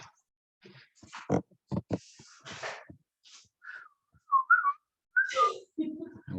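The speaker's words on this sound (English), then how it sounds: "Whistle." A person whistles a few short, clear rising and falling notes, preceded by scattered soft knocks and breathy sounds, fairly close and moderately loud with brief gaps between the notes.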